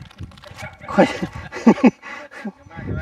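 A dog gives several short, high yipping barks and whimpers close by in a rural setting, in quick irregular bursts.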